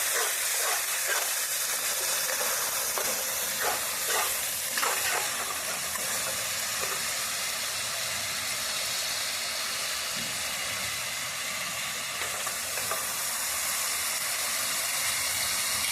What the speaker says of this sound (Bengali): হলুদ গুঁড়ো লবণ জিরা মশলা দিয়ে এখন ভালো করে একটু কষিয়ে নেব মশলাটাকে